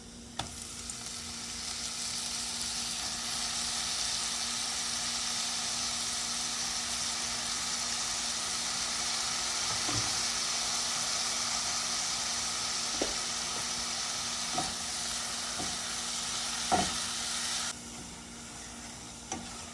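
Fenugreek leaves sizzle and fry in a hot pan for restaurant-style methi matar malai, a steady loud crackling hiss that runs throughout, broken by a few sharp utensil knocks toward the end before the sizzle drops away.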